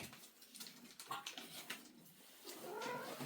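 Shelter cats meow around feeding time at an animal shelter, several moderately close calls and mews overlapping in a short, restless burst with faint background clatter.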